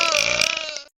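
A single loud, close burp lasts just under a second and then cuts off abruptly.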